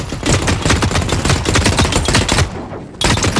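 The Manacle gun in the video game The Cycle: Frontier fires in a loud, rapid automatic stream of shots, pausing briefly near the end before the shots resume.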